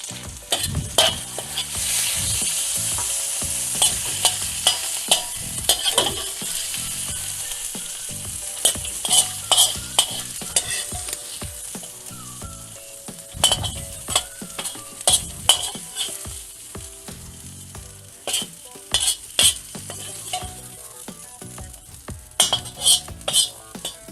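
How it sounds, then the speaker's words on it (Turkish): Meat and tomatoes for Mersin tantuni fry on a hot griddle, a steady loud sizzle broken by frequent sharp scrapes and clacks of a metal spatula stirring and chopping throughout. "Şimdi de etleri koyuyoruz."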